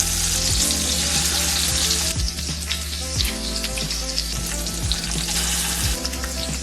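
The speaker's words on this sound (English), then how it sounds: "So we're gonna put some butter in the pan, put in our fish, and then cook those on one side and give them a good sear on the other side" Bass fillets sear in butter in a pan, giving a loud, steady spitting sizzle with dense crackles throughout and occasional light taps, no voices.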